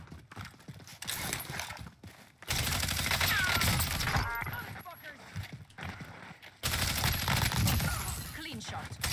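Bursts of rapid gunfire from an M4A1 rifle in Warzone Season 5 come in two loud stretches separated by quieter gaps, with players talking over the shooting.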